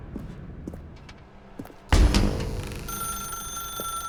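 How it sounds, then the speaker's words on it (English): A telephone rings in The Stanley Parable inside a dark room, starting abruptly partway through as a loud burst with sustained ringing tones, after quiet ambient footsteps and faint noises. "Now pick up the phone"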